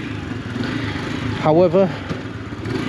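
An AJS Tempest Roadster 125 motorcycle engine running steadily nearby, a low continuous putter, briefly overlapped by a voice.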